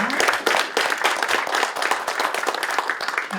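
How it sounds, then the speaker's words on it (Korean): Applause follows a signing ceremony for an agreement on population education, a steady crowd of hands clapping briskly and continuously at moderate distance. "큰 박수로 축하해 주시기 바랍니다"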